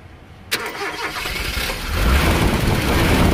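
A Toyota Kijang with a 5K engine, in for light service over high fuel consumption, starts with a sudden crank after a brief quiet. The engine catches and settles into a loud, rough running roar that swells toward the end.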